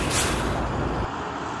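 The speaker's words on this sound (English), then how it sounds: "bus" Bus air brake releasing a loud hiss of air that cuts off about two thirds of the way through, leaving a lower idling rumble behind it.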